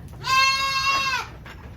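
A goat gives one loud, drawn-out bleat, close by, with a quieter bleat trailing after it, on a goat farm.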